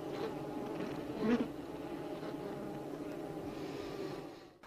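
Honeybees buzzing inside a hive, a dense, continuous hum that holds steady at close range with a brief swell partway through and no voices.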